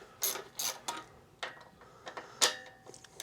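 A socket ratchet wrench clicks in several short bursts of rapid ticking while working on a Toro machine, close and moderately loud, with brief pauses between strokes and no talking.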